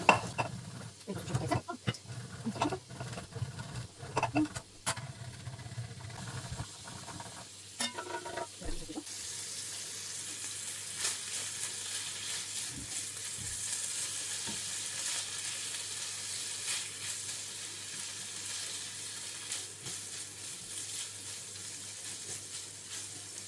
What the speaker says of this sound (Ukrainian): Бекончик смажиться, даємо йому віддати жир.